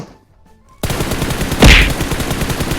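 Rapid machine-gun fire in PUBG Mobile bursts in suddenly after near silence, a fast continuous rattle of shots with one louder blast partway through.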